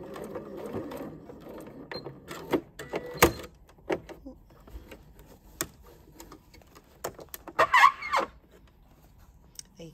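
A sewing machine stitches across a bag, running in short intermittent bursts with clicks and mechanical rattles, fairly close and at moderate volume.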